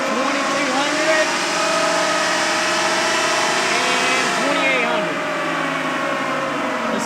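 A stock 2024 Ford PowerStroke diesel pickup revs toward about 2,800 RPM on a dyno, producing a loud, steady engine drone whose pitch sweeps up and down, with a voice over it.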